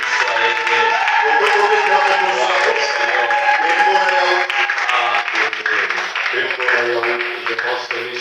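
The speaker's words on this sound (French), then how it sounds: "Est-ce qu'on peut maintenant acclamer le roi pour qu'il soit aidé?" A church congregation applauding and cheering, a sustained loud wash of clapping and raised voices that holds steady throughout, with vocal tones ringing above the crowd noise.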